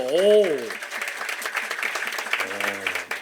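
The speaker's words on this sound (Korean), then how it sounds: "박수 한번 주세요" A studio audience at a Korean talk show on food and health breaks into brief applause, a short burst of clapping heard under and between a host's speech.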